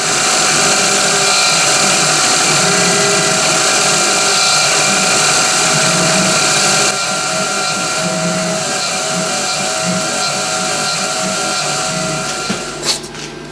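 A Bridgeport milling machine spot drilling holes whines and hums steadily with a high-pitched motor drone, dropping slightly in level midway before a few clicks near the end.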